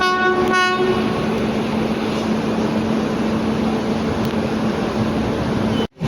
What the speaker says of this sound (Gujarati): આપણી ટ્રેનનું જબલપુર એક્સપ્રેસ સાથે ક્રોસિંગ થઈ ગયું છે ગોંડલમાં